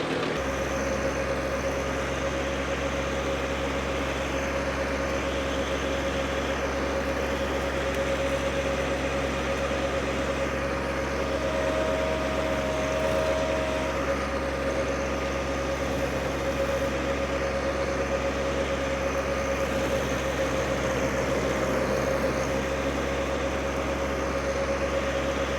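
A DR trimmer/mower's small engine runs at a steady, unbroken drone throughout, close and constant with a persistent buzzing hum and no talking.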